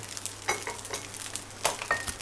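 Jasmine rice with marinated pork and Chinese sausage is stir-fried in a pan, giving a steady hiss of frying with repeated scraping strokes of the spatula, close and alone.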